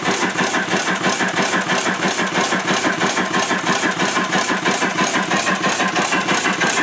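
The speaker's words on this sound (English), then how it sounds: "Called an oscillating steam engine because the cylinder oscillates." A small oscillating steam engine chuffs in a fast, even rhythm, its steady repetitive beat running continuously and close by.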